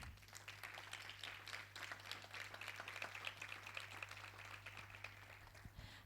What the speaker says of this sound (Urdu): تو پھر آپ اپنے لیے تالیاں بجا سکتے ہیں۔